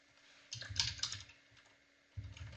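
Keys tapped on a computer keyboard in two short bursts of quiet, quick clicks with a brief pause between, fairly close and alone with no voice.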